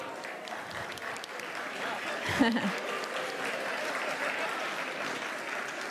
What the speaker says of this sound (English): we can invite everyone to applause